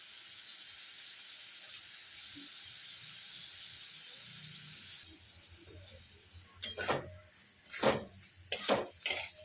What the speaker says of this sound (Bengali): নুন মিষ্টি দিয়ে এটা ভালো করে নাড়িয়ে নেবো